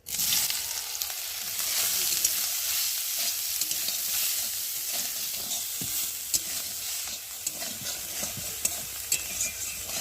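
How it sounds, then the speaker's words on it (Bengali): Small soya chunks fry in a pan with a steady, close sizzle, and occasional clicks of stirring ring out over the continuous hiss for the whole stretch. "আর এখন আমি সয়াবিনগুলো ঢেলে দিয়ে ভালো করে ভেজে নেব।"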